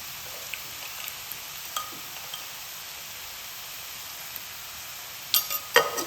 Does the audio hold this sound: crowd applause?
no